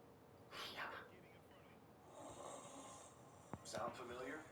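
Faint snoring in a Mattress Firm mattress commercial comes as three soft, raspy breaths spaced about a second apart, with a brief snort-like click just before the last one, in an otherwise quiet setting.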